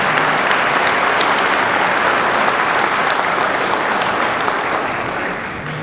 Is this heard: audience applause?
yes